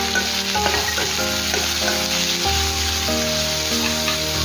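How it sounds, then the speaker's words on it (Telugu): Bitter gourd pieces seasoned with turmeric and salt being stirred in a hot pan, giving a steady close sizzle with repeated scraping and tossing strokes throughout, no voices. "దాంతో ఒకసారి బాగా మిక్స్ చేసేసుకుందాం"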